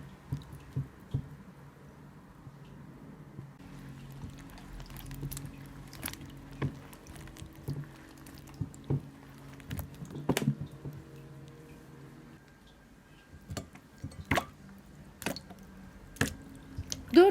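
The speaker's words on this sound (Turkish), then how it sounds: "Daha sonra üzerine tuz döküp şöyle bir karıştırdıktan sonra patlıcanlarımı ekliyorum." Eggplant pieces going into salted water in a bowl and being stirred, giving soft, intermittent wet drips and squishes with scattered sharper splashes over a low, steady background, no voices.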